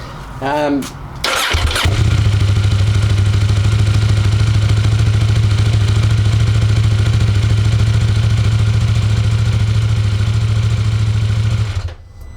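A KTM 890 Rally motorcycle cranks and fires from a cold start, then settles into a loud, steady exhaust idle that runs for about ten seconds before cutting off.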